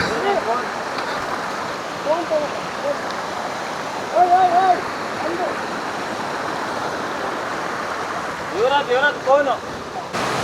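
Beside an off-road trail near Hebri, a waterfall pours with a steady, broad roar. Voices talk and call out over the water now and then.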